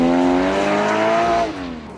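Porsche Boxster 981 GTS with a 3.4-litre flat-six and PDK gearbox accelerating hard, the engine note rising smoothly through the revs, then dropping sharply as it shifts and tails off, loud and close.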